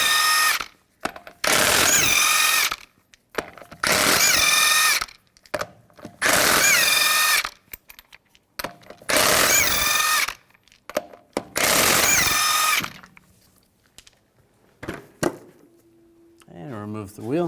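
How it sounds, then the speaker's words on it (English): Impact wrench on a 22mm socket zips lug nuts off a 2007-2013 Chevrolet Silverado wheel in five loud, roughly two-second bursts with short pauses between, followed by quieter clicks and handling sounds. "Using a 22mm socket, take the lug nuts off."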